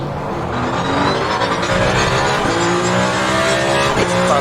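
Race cars in the Le Mans Ultimate simulator, loud sustained engine roar with rising and falling revs and a hint of tire noise, dense and continuous with no talking.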